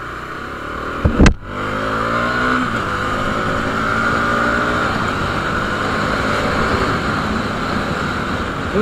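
Bajaj Dominar 400 motorcycle accelerating on a road near Roorkee, a sharp burst at the start, then the engine pitch climbs steadily in a rising whine under heavy wind rush, loud and close throughout.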